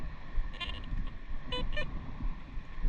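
A Garrett Vortex metal detector in shallow water emits a few short, tonal electronic beeps in quick clusters over a noisy, rumbling background.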